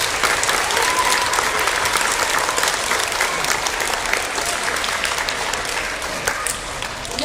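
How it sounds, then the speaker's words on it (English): Steady, loud applause from a ceremony audience honoring tree board members, dense clapping filling the room continuously for several seconds without letup. "We'd like to honor those with applause."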